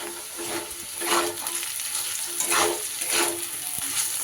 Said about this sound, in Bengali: নুন আর হলুদ দিয়ে আমি আলুটাকে সুন্দর করে ভেজে নেব